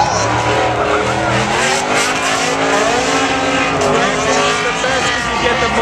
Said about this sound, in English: Chris Forsberg gave you in a new V8 engine under the hood.